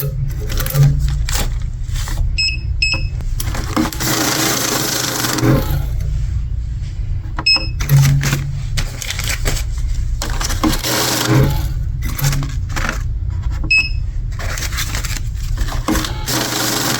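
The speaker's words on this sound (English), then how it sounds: "And we'll fill this up with quarters." Quarters collected from laundromat machines, with repeated metallic jingles and clatters of coins over a steady loud machine hum, plus intermittent clunks and scrapes nearby.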